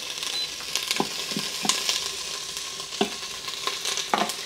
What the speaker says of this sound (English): I'm going to cook that for about 2 to 3 minutes until the onion starts to become a little bit more translucent.